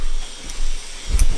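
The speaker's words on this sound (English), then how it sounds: "Locking the door." A door being locked from inside a home: soft mechanical scraping followed by a sharp, close click and clack of the latch near the end, loud and alone with no voices.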